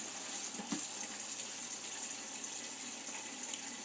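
Water runs steadily from a kitchen tap while someone makes a drink, a continuous moderate hiss with one brief splash-like knock early on and no talking.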